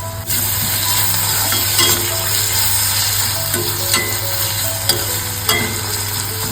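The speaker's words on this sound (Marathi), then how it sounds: "कांदा लसूण कढीपत्ता मस्त परतवून झालेला आहे आता आपण टोमॅटो घालून घेतले" Tomatoes sautéed with onion, garlic and curry leaves in a pan for a field-bean curry, a loud steady sizzle with a low hum underneath and occasional spoon scrapes and light clinks, close up, no talking.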